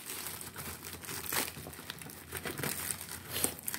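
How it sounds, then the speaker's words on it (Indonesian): Plastic packaging of a 15-meter drain pipe cleaner crinkles and rustles steadily as it is unwrapped. The handling noise is close and continuous, with a louder crunch near the middle and no talk. "Langsung di unboxing."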